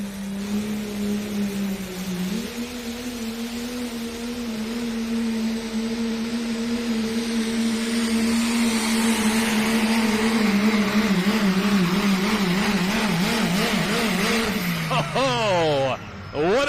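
A diesel pickup truck's engine spools up at a truck and tractor pull in Lufkin, Texas, a loud droning roar that climbs in pitch and then wavers as it strains, with an announcer talking over it.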